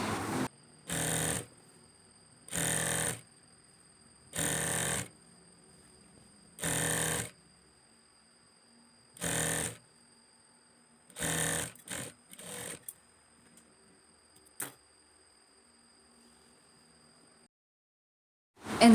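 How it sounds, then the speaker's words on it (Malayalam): A sewing machine stitches an abaya lining in bursts of rapid stitching, about eight runs separated by pauses, close and clear with a steady faint hum between, then a few short taps near the end. "ഇവിടെ വരുമ്പോഴത്തേക്കും ലൈനിങ് മാത്രം വെച്ച് കൊടുത്ത് നമുക്കത് താഴെ വരെ സ്റ്റിച്ച് ചെയ്തെടുക്കാം"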